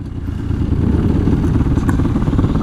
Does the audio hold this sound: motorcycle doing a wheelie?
yes